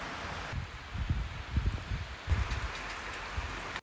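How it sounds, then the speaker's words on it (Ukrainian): The first spring rain falls on a lawn as a soft, continuous patter with light rustling surges. It is quiet and steady, and no one speaks. "почався перший весняний дощик, який якраз чудово полив наш газон"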